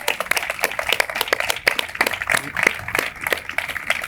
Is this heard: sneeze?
no